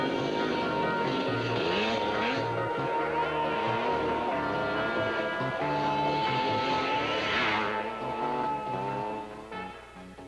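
A UH-1H Huey helicopter in flight, a loud, steady engine drone with layered mechanical hum, sustained throughout and easing slightly at the end.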